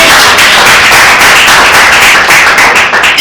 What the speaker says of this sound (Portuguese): Pode aplaudir a Ele, pode adorar a Ele